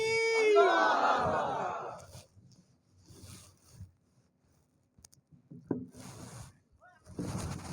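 A crowd at a Bengali waz mahfil roars the takbir chant in a loud, swelling collective shout, then short bursts of murmur and movement follow in a large outdoor gathering.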